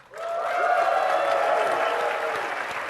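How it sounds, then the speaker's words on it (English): Audience applause at a SharePoint 2013 conference demo session, a steady wash of clapping that swells in quickly and holds for a few seconds, with a held tonal sound running underneath. "That's how you get them to clap."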